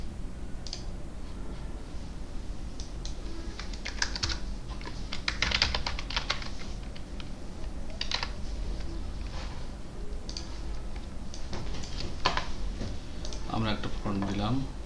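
Typing on a computer keyboard while entering text in Adobe Illustrator, heard as scattered soft clicks and bursts of keystrokes that sit under steady background noise throughout.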